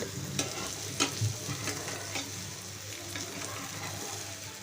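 Onions fry in a pan with chili powder and salt, a continuous sizzle with stirring scrapes and soft taps throughout, close and moderately loud.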